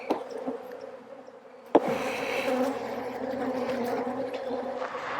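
Honey bees drone steadily around an open beehive in an apiary during fall beekeeping, a dense close buzz that swells after a sharp knock of the hive box and continues without talk.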